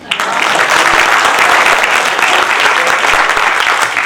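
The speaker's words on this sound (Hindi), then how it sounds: "आप जानते हैं ब्राह्मण के सम्मान में कैसी ताली बजनी चाहिए" Loud, dense applause fills a hall at a Hindi comedy poetry show, a hasya kavi sammelan, with a packed audience clapping hard and evenly from start to finish.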